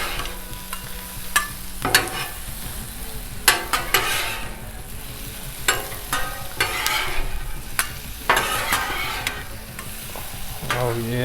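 Brats sizzle on a Blackstone griddle with a constant frying hiss, broken by repeated sharp metal spatula scrapes and clacks against the flat top at close range, and nobody speaks.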